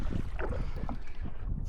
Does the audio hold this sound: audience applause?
no